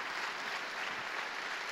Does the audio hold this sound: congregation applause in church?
yes